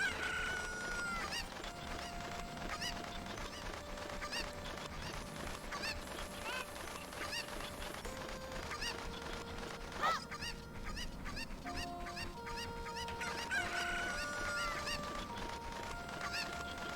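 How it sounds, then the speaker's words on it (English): Cuckoo chickens in Kakariko Village from Zelda: Ocarina of Time cluck and crow in repeated short squawks and a few longer crowing calls, layered over a soft looping game melody at low volume. "So first thing we want to do in Kakariko Village is obviously get these chicken first."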